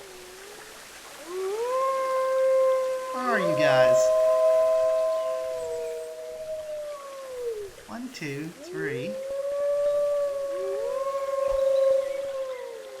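Wolves by the edge of the woods howl in long, sliding, overlapping tones, fairly close and loud, while a person speaks briefly between the howls.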